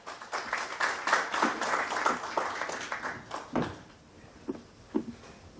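An audience at a book launch event claps in a dense burst of applause that fades after about three seconds, leaving a few isolated claps in a quiet hall.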